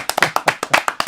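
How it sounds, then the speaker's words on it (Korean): Hands clap in a quick, slightly uneven burst of about a dozen sharp claps from a few people nearby, over roughly a second. "이거 박수 한번 주셔야 돼요"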